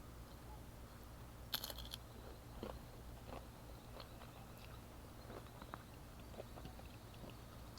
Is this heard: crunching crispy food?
yes